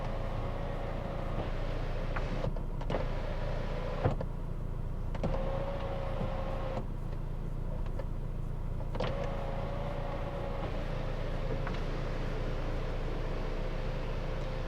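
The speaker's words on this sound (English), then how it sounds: "So I just pressed that button one too many times, but that's opened the sunroof" Electric sunroof motor on a car with a dark roof runs with a steady whirring hum, stopping and restarting in several segments as the roof panel opens and closes, heard close up inside the cabin with no talking.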